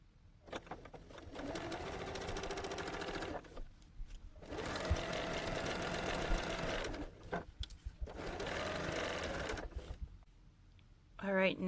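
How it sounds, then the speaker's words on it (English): A sewing machine stitches a teardrop shape in several long steady runs separated by short pauses, its rapid mechanical whir close and clear. "So let's sew for a bit."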